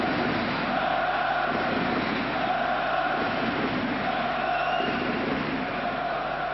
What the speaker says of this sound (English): An excellent crowd here in Munich, enjoying every minute of this.